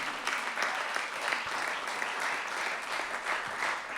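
Applause from a seminar audience, steady, dense clapping heard from across a room at moderate volume, no voices on top.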